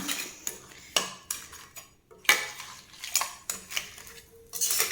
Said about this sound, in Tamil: மிக்ஸ் பண்ணி விட்டுட்டுங்க